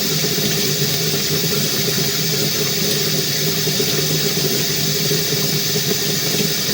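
Water flushes through a stationary tub drain in a house, a loud, continuous rushing and gurgling wash with no speech.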